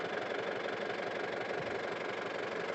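A Yanmar YM 348 A tractor engine idles nearby with a steady, even diesel rumble and a faint knocking texture, running continuously without a break and with no talk over it.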